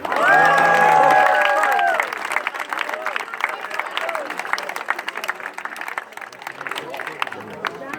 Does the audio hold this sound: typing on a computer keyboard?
no